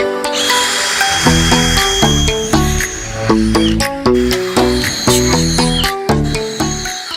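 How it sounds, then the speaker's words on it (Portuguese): A drill under a column router setup bores holes slowly with a fine bit, producing repeated rising and falling high-pitched whines in short bursts, loud and close. "não vai com toda a pressão, vai devagar para que você consiga fazer o furo corretamente"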